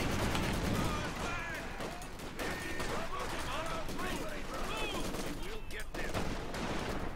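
Rifle grenades and gunfire rattle in a wartime strategy video game, dense overlapping shots and blasts under ongoing voices and chatter across the whole stretch.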